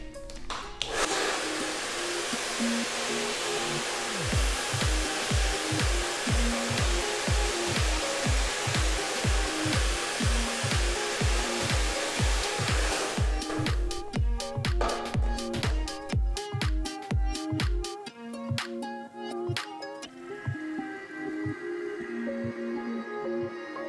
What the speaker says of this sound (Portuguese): o tempo que a gente fica com o secador no cabelo para não queimar a mecha